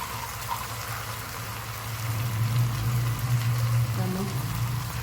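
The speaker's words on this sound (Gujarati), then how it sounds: "અડધો ગ્લાસ જેટલું પાણી એડ કરીશ." About half a glass of water poured into a vegetable curry in a pan, a soft splashing pour that swells partway through over a low steady hum.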